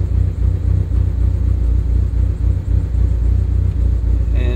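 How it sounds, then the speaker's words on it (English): A car engine, launch limiter disabled, revs up through its RPM range in a loud, near, pulsing rumble that rises and falls in repeated surges, running alone without voices. "make it so that you can rev the car up all the way through the RPM range"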